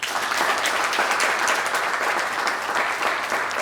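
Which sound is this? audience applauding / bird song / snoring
audience applauding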